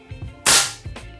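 One sharp, loud crack rings out close by from an FX Wildcat Compact .22 caliber air rifle, with a brief tail and faint ambient hum around it.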